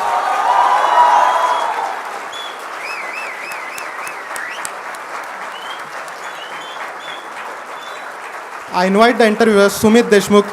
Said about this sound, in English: let us now welcome Tamil Nadu BJP President Thiru K. Annamalai to the podium with a huge round of applause